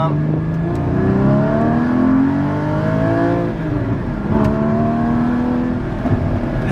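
A Porsche Cayman GT4 drives a winding canyon road, its engine droning loudly and steadily with rising and falling pitch as it pulls through long gears, heard from inside the car.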